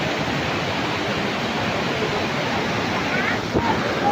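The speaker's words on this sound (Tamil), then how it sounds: "ஆனால் வாட்டர் ஃபால்ஸ் செம்மையாக இருக்கும்" Lakkom waterfall near Munnar on the Munnar–Udumalpet road, heard as a steady, loud broadband rush of falling water that fills the whole scene without pause.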